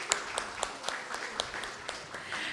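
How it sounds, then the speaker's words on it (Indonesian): Church congregation clapping during an evening praise and thanksgiving anniversary service: a soft, fairly sparse round of applause with distinct individual claps standing out in a loose rhythm, heard at moderate distance. "Sekali lagi kita berikan tepuk tangan."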